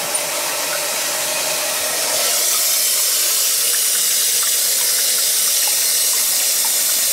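Steady loud hiss of pressurized water spraying from a toilet supply valve, growing slightly stronger after a couple of seconds and then holding constant.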